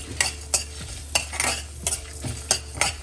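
Okra frying in a pan until golden brown for a curry, with a steady sizzle under rhythmic stirring strokes of a spoon scraping the pan about every half second, close by.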